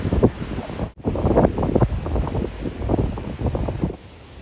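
Rough sea waves at the Samcheok coast, near fishing rocks, arrive as heavy gusty rumbling mixed with buffeting wind on the microphone, surging and dipping irregularly at close range.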